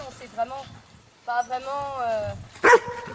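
A dog barks briefly near a young horse being started under saddle, a short sharp outburst late in the clip while someone speaks French throughout.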